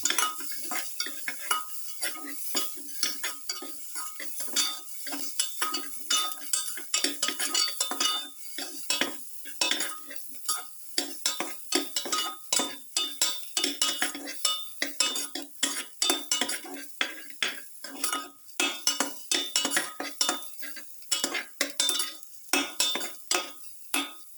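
Garlic sautéed in a pan, with a steady run of utensil scrapes and clinks against the metal over a faint sizzle, close and continuous for a long stretch without talk.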